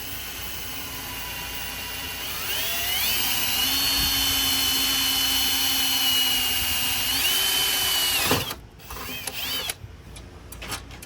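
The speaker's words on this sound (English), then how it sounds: "hold it down, and then drill a hole there and mount that one" A power drill whines steadily as it bores a hole to mount a floorboard on a Can-Am Renegade 1000 ATV, its pitch rising and holding for several seconds, then stopping with a few short clanks and handling noises.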